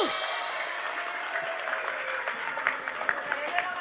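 Audience applause at an Indonesian religious gathering, a steady crowd wash of clapping that holds throughout, with some voices and a tonal hum beneath it.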